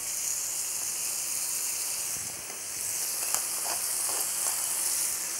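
Hamburger patties fry in a pan with a steady, bright sizzle and hiss, close and continuous, with a few faint clicks and shifts partway through.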